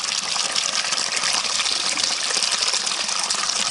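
Pure mountain spring water gushing steadily near a Pyrenees trail, a loud continuous hiss of flowing water close by, with no voices.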